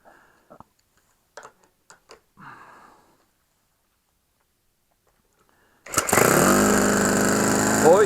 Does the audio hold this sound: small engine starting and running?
yes